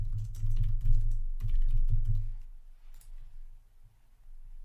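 Keyboard typing a new Google Drive folder name: two quick bursts of close keystrokes, then a quieter stretch with a few faint clicks.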